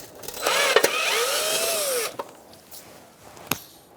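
A powered driver spins out a fender liner screw on a Honda CR-V with a short close whirring burst of about a second and a half, followed by a few light clicks and taps.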